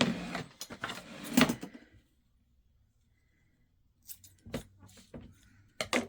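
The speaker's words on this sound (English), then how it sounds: "I'm going to cut that off." Scissors snip off a small extra piece of material during a red, white and blue craft project: a few close, crisp cuts, a quiet pause, then more sharp snips and handling noises.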